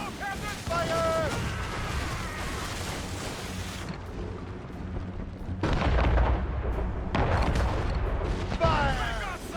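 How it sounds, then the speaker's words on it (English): Mortars fired from a sailing warship during a naval battle in Assassin's Creed Rogue: heavy, booming blasts and rumbling impacts, some close and loud, with shouting voices in between. "We should fire our mortars, Captain!"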